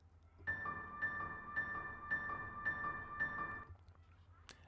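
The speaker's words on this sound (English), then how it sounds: "Then we want to play an alert sound I've already added here," A low-player-health game alert tone beeps about six times in a steady pulse, followed by a brief quiet tail and a short high click.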